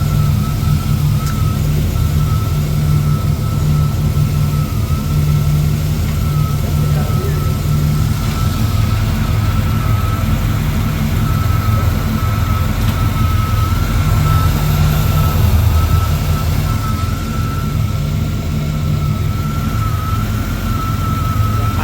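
A loud, steady truck engine drone with a thin, constant whine from the serpentine belt drive, running unbroken for the whole stretch.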